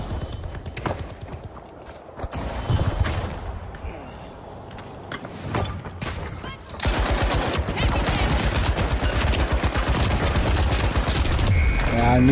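Gunfire in the shooter game The Finals, with bursts of rapid automatic fire and loud shots building into sustained, dense shooting over a mixed game soundscape.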